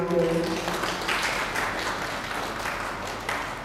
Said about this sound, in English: So please can we have a big, a big round of applause for Ma'am